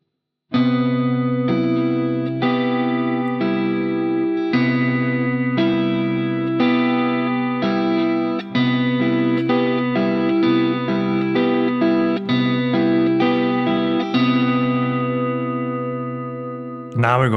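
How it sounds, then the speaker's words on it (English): Fingerpicked electric guitar run through effects, a steady pattern of ringing plucked notes with chorus and echo shimmer, close and clear, playing alone without talk for about sixteen seconds. "So the whole finger picking part sounds like this."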